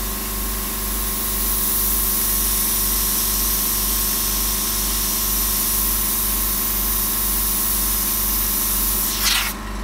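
A continuous, steady airbrush hiss sprays paint onto a horror portrait, close and unbroken throughout, with a low pulsing compressor hum beneath and a short sharp burst near the end.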